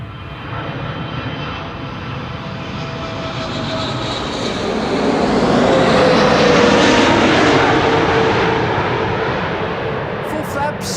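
A KLM airliner arriving from Lima descends onto the Polderbaan runway at Amsterdam Schiphol, its engine roar swelling steadily to a loud peak overhead and then easing off, with no voices over it.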